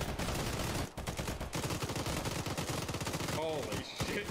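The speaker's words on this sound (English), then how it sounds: "I hear gunshots." Rapid bursts of automatic gunfire in the video game Arma 3 crackle continuously, with a brief pause between volleys, loud and close, with a faint voice mixed in.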